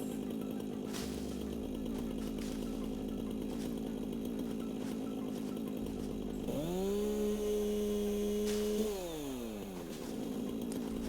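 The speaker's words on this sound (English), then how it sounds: "Okay, so you can chainsaw it" Chainsaw in the video game Satisfactory cutting into a tree, a steady buzzing idle that revs up sharply for a couple of seconds and then drops back, loud with no talking.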